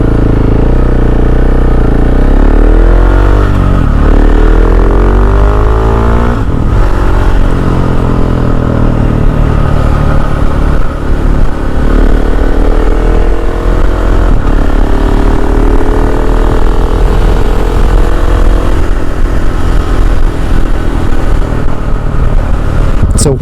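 A KTM 690 SMC R supermoto's single-cylinder engine drones loud and close while riding, its pitch rising and falling through gear changes and throttle shifts over steady wind rush, with no talking.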